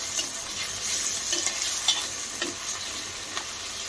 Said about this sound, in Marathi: पनीर तुम्ही असं शॅलो फ्राय पण करू शकता, पण मी आता यामध्येच असं शॅलो फ्राय करून घेत आहे।